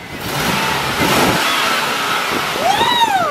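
A V8-swapped car revs hard nearby, its engine note rising and falling in a loud, steady roar before sweeping up sharply near the end.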